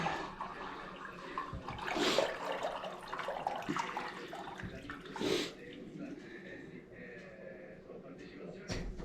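A house toilet, tested after a backed-up main drain, is flushed: rushing, gurgling water surges and fades, with quiet voices talking in the background.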